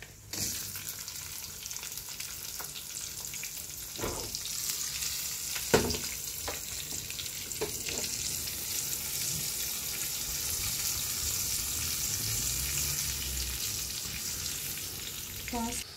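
Tempering spices with asafoetida and green chilies frying in hot oil give a steady sizzle, with a few sharp clinks and stirring noises on top and no talking.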